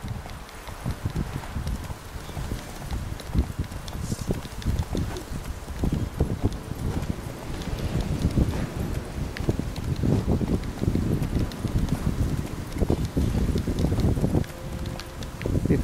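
Horse hooves clip-clop steadily during riding in The Witcher 3 video game, a continuous rhythmic gallop of many close, loud hoofbeats over wind and rustling, with no talk.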